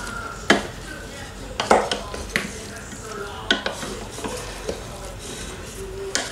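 Meat is stirred in a cooking pot for a beef bourguignon, giving scattered scrapes and clinks of a utensil against the pot over a faint sizzle, fairly close and quiet.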